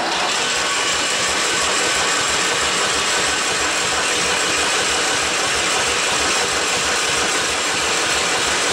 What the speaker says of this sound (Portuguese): Deixa eu bater mais um pouquinho de arranque lá para vocês verem